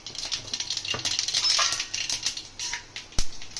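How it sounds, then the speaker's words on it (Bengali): Mustard seeds splutter in hot oil, a close, crackling scatter of tiny pops and ticks over a faint hiss, with one sharper knock near the end. "তেল গরমে আছে, ওর মধ্যে সর্ষে ফোড়ন দিয়ে দেবো"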